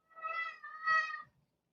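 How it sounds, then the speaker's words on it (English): Cat named Holly gives a single drawn-out two-part meow, close and clear in an otherwise quiet room, ending with a soft trailing sound. "My kitty cat Holly is going to join us."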